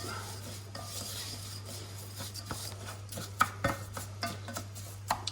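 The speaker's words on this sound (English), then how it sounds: "Give it a wee stir around." Rice is stirred and fried in oil in a pot for Hainanese chicken rice, with soft scraping and light clinks of a spoon over a low steady hum, no talking.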